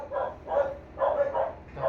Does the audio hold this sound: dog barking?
yes